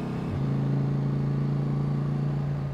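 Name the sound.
motorcycle accelerating to overtake a car on the Col du Galibier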